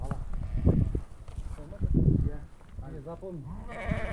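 Sheep bleat up close in a village pen, including a prize ram, several wavering calls overlapping with a voice and some rustling.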